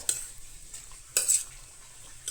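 Onion and green chillies for a Goan veg thali are mixed in a pan, with soft scraping strokes of a spoon and a light sizzle, close and fairly quiet.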